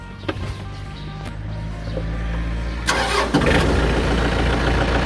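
A Yanmar 49-horsepower tractor engine cranks briefly, then catches and settles into a steady, rumbling diesel idle close by.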